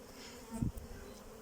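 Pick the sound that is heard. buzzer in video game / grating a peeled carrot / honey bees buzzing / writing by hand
honey bees buzzing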